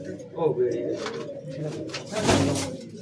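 Several female Madrasi high-flying pigeons coo close by in a loft in low, rolling calls that overlap, with a louder burst near the end.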